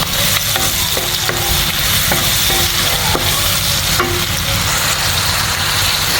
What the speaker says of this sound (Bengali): আমি একটা কড়াইয়ের মধ্যে এখানে পেঁয়াজ কুচি দিয়ে দিয়েছি, কাঁচামরিচ দিয়েছি